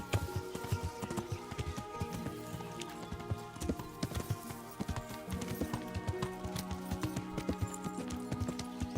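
Steady clip-clop of horse hooves at a quick, even pace in the video game Kingdom Come: Deliverance, close and fairly loud over a busy game soundscape with music-like tones.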